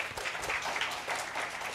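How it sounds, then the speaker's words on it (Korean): Dense applause from a lecture audience at Sungkyunkwan University, a continuous patter of many hands, fairly quiet and heard from a distance, with no voices over it. "박수 한번."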